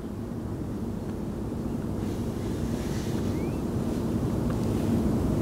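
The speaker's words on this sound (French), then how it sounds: "il y a du vent pour être précis" Wind blowing at a riverside roach fishing spot with a feeder rod, a steady low rumble of gusts buffeting the microphone, rising slightly toward the end, with no talking.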